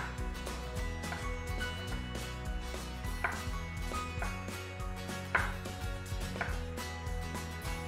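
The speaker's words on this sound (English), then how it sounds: "I like to dice my onion really, really tiny." Steady rhythmic chopping of a knife dicing an onion very finely on a cutting board, quick repeated taps at moderate volume with a low hum underneath.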